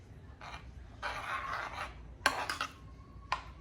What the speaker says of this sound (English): you're going to throw those right on in there and give that a stir